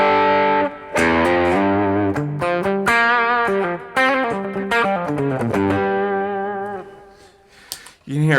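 Electric guitar on the bridge pickup driven through a Zendrive overdrive pedal, a flurry of mid-heavy picked notes and chords with warm crunch, busy and continuous, fading toward the end before a short final pick, no voices.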